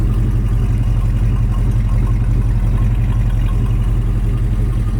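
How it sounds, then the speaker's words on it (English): A 1970 Plymouth Roadrunner with a 383 engine idles with the air conditioning on, its exhaust giving a steady, loud, even low rumble that holds throughout with no talk over it. "Hear that exhaust."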